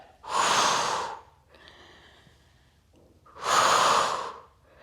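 Two strong, close exhalations during a Pilates exercise, each a forceful rushing breath lasting about a second, separated by a quieter inhale.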